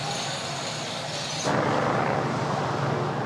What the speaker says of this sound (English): We've got the helicopter circling.